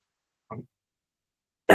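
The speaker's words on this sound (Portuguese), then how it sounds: "E vocês não reparem se eu tossir." A person with a cough during a live talk gives a short, soft throat-clearing sound, then a louder, sharp cough after a pause of silence.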